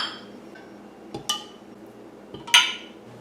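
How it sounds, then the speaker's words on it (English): Glass jars being filled with small peeled baby onions for pickling, giving two short clinking knocks of onions and glass against a faint background, with no talking. "Alright, so now it's time to fill up the jars with our little baby onions."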